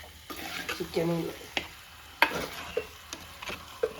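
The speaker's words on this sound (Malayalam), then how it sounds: "നമ്മൾ ചിക്കനും അതിൻ്റെ കൂട്ടത്തിൽ ഒന്ന് ഇളക്കി പിടിപ്പിക്കാം" Chicken curry being stirred in a pan, with scattered scraping strokes and soft sizzling at a low, close level, no talking.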